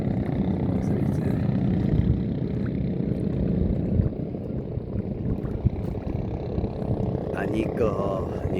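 Boat engine droning steadily on open water off Calatagan, Philippines, a loud continuous low rumble with wind and water noise throughout and a brief higher whine near the end.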